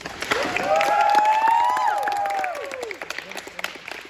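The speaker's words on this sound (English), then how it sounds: "Let's get another huge round of applause for all your candidates." Audience at a student council presidential debate applauds loudly, with rising whoops and cheers riding over sustained clapping that fades within a few seconds.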